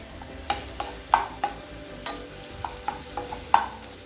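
A spatula scrapes and knocks against a frying pan while half-cooked egg and vegetables are stirred for roadside-style chicken fried rice, with about ten sharp, uneven metallic strokes over a soft sizzle.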